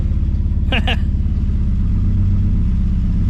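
A 1963 Plymouth Belvedere, left sitting since 1978, runs with a steady, loud low engine rumble throughout, and a brief voice cuts in near the start.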